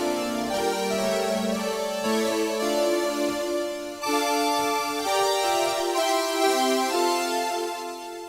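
Sustained string voice on an electronic organ playing a slow, chord-based passage alone, with notes changing every second or two and a steady, full, continuous tone throughout.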